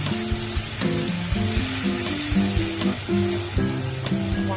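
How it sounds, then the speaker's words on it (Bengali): Spices fry in a pan for a Bengali-style dhoka dish, a steady close sizzle with repeated scraping and stirring strokes and clinks of a spoon against the pan. "মশলাটা একটু কষিয়ে নেব।"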